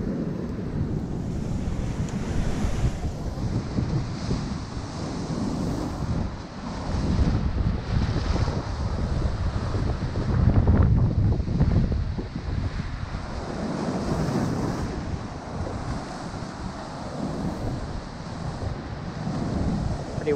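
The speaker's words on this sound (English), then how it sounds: "Wild and windy." Wind and breaking waves at a rocky coastal cove, a steady loud roar of surf with heavy wind buffeting across the microphone, swelling and easing throughout with no voices.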